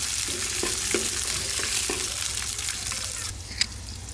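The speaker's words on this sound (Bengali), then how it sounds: "রসুন আর শুকনো মরিচ ভেজে নিচ্ছি" Garlic and dried chillies fry in hot oil for a Bangladeshi mashed-dish preparation, giving a constant dense sizzle with a few light rhythmic scrapes of a spatula and one sharp clink near the end.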